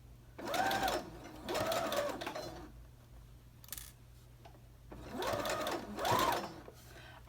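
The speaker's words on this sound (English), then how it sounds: "go ahead and lower your needle. And there's no need to backstitch, just go ahead and start sewing." A sewing machine bastes a belt loop in two bursts of rapid stitching, each about two seconds of whirring needle motion, separated by a quiet pause with faint handling noise.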